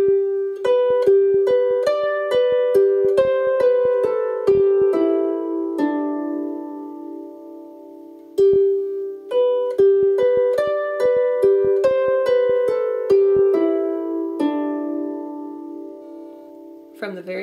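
A harp plucks the lilting Shetland folk tune "Jack Broke the Prison Door" in two short phrases, bright ringing notes with a brief pause between them.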